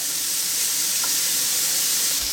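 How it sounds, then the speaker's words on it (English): Steady, bright sizzling of bacon frying in a hot pan, a continuous crackling hiss close up with no talking. "While that bacon's sizzling"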